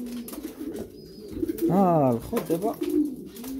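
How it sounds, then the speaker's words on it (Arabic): Pigeons coo several times, close and clear, in low throaty rolls. Someone speaks over and between the calls. "دابا نعطيو الحميمات يقصيو"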